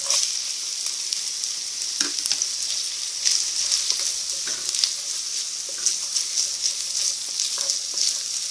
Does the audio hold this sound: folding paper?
no